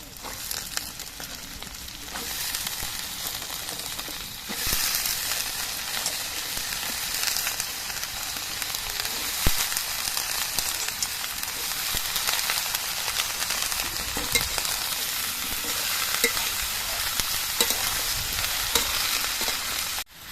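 Onions and vegetables sizzle steadily in hot oil for an amudi fish and spring-onion chorchori, a dense, even frying hiss with faint stirring, close and continuous throughout with no voices.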